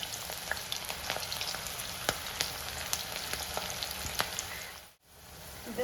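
Okra frying in oil over a high flame, a steady close sizzle with sharp pops and crackles scattered throughout, briefly dipping before resuming.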